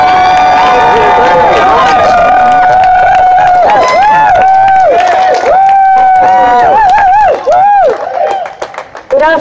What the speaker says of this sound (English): please put your hands together. The biggest cheer you've ever heard in your life.